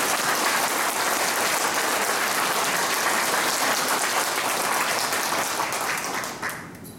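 Sustained audience applause honoring Korean War veterans at a lecture forum, a dense, steady wash of many hands clapping at full volume before tapering off in the final second.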